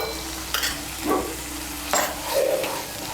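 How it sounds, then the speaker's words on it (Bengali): Whisked sour yogurt is stirred into fried spice masala in a pan for an egg curry. A steady low sizzle runs throughout, broken by a few scraping stirs of the spoon against the pan. "টক দইটাকে ভালো করে মিশিয়ে নেব।"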